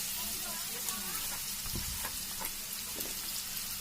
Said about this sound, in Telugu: వైట్ పెప్పర్ కూడా వేసిన తర్వాత కొంచెం కలుపుకోవాలి